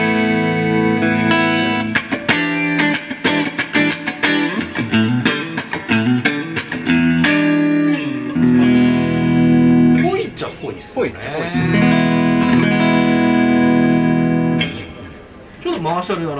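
An electric guitar through a Zoom G2 FOUR effects unit into a Roland JC-120 amplifier rings out with reverb and a slightly distorted tone, playing a run of plucked notes, then sustained chords that trail off.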